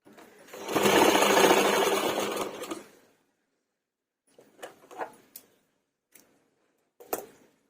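A sewing machine runs in a steady loud burst of stitching for about two seconds while altering a blouse neck, then falls silent except for a few short clicks and taps of handling the fabric.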